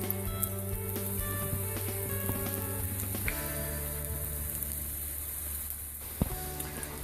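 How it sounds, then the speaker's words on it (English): Kimchi pancake batter sizzles steadily in a hot frying pan, a dense, rain-like crackle that stays loud and even throughout with occasional sharper pops and no voices. "the sizzle of the frying pancake sounds like rain"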